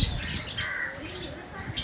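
Lovebirds in a park enclosure in Jaffna chirp and squawk in short scattered calls, moderately close and overlapping, over a faint background hum.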